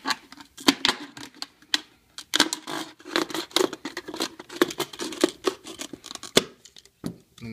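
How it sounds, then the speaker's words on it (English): A blade cuts the top off a plastic soda bottle with a run of irregular, crackling snips and crunches, close and fairly loud, with no talking. "And you want to cut the top of the bottle off."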